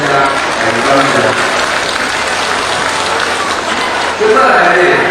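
Audience applause at a temple inauguration ceremony, dense steady clapping from a crowd lasting throughout, loud and close, with a voice speaking over it near the end.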